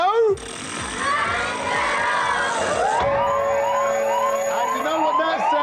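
A wailing police siren sweeps up and down loudly and steadily for the whole stretch, with busy game-show commotion and voices beneath it.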